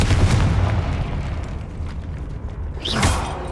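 A Confringo blasting spell exploding in the Hogwarts Legacy video game: a loud, rumbling burst fading over a few seconds, then a second sharper blast near the end, with no talk.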